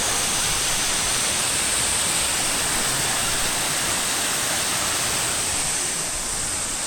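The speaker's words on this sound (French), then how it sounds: "Ok, du coup bah là il y a la petite cascade" Small waterfall in Kobe, a constant dense rush of falling water, loud and unbroken from start to finish with no voices.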